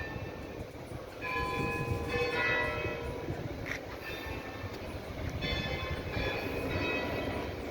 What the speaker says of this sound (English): You can hear the cathedral clock chiming.